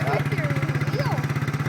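A 1992 Suzuki Quadrunner ATV idles after a cold start, its engine thumping in a steady, even pulse close by while people talk over it.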